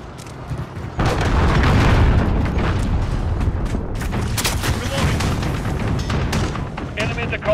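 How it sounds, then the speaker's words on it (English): Cruise missile blast in a multiplayer shooter game, a sudden heavy boom followed by sustained rumbling debris and scattered gunfire-like cracks, loud and close, with voices mixed in. "Enemy cruise missile incoming."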